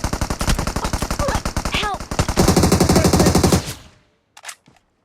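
Rapid automatic gunfire in PUBG, a long burst of loud evenly spaced shots followed by a heavier volley, then a sudden stop and a couple of faint distant pops.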